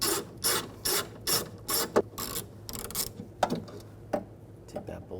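A ratchet fitted with a 10mm socket turning a bolt inside a 2006–2010 BMW 550i door during window regulator removal, several quick bursts of clicking followed by softer scattered mechanical clicks and rubbing, close by.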